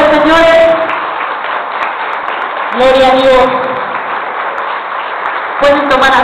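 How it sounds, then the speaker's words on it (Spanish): Audience applause at a church women's conference in Mexico fills the gaps between bursts of a voice speaking, a broad, even clatter of many hands running under and between the talk. "¿Se animan a dar un fuerte aplauso al Rey de Reyes?"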